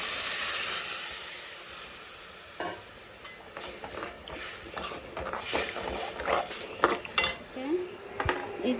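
Ground masala paste goes into a fish curry pot and is mixed in, bringing clinks of a spoon against metal, scraping stirs and a soft sizzle, with a bright whine early on and sharper knocks toward the end.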